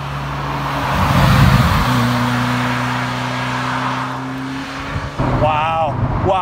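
A Ferrari F40 sports car drives along with a loud, steady engine drone and broadband road roar throughout, its tone shifting near the end as a voice speaks over it.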